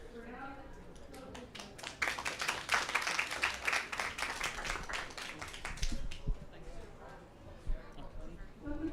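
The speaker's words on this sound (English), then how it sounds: "that was a very deserved round of applause" An audience at the Nature Positive Pavilion at COP16 applauds after a presentation. Scattered claps quickly swell into steady applause that gradually thins out, and a voice talks over it.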